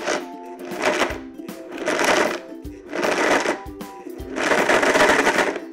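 A blender pulses in four loud bursts of whirring motor while mixing energy bar ingredients, each lasting about a second, separated by brief pauses.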